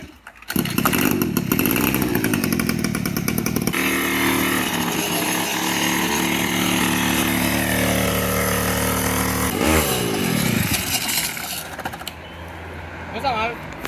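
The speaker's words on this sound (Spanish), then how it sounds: "un motor 2 tiempos de corta césped" A homemade four-wheel scooter on kart wheels with a two-stroke lawnmower engine, its buzzing, raspy motor running loud and close, revving up and settling in pitch, with someone talking over it.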